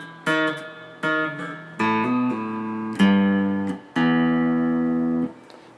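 A guitar lick from a song: five clean picked notes and dyads, each ringing briefly before the next, with the final one held longest and fading out, played alone and close.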